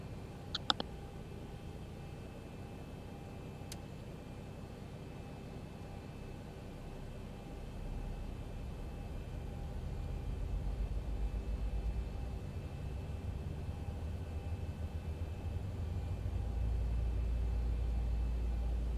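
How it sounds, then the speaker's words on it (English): A Boeing 737 number 2 engine starting up in a flight simulator running the Zibo mod: a couple of faint clicks, then a low rumble that swells gradually and grows heavier toward the end. "Starting number 2 engine."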